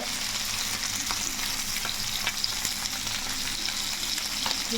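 Fish pieces fry in a pan with a dense, continuous close sizzle and occasional faint stirring clicks, heard alone without talk.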